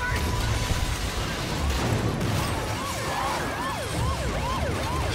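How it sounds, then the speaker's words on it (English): In Spider-Man: Miles Morales, a wailing siren rises and falls repeatedly in the second half, amid loud crashing and rumbling action noise. "How is that siren still working?"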